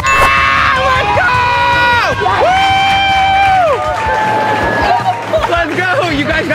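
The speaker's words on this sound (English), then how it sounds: "Everyone was either laughing, upset, and then they cheered when Emily saved the ring." A crowd cheers and shouts at a live event, loud and close, with excited voices, whoops and general hubbub filling the whole stretch, while people talk over it.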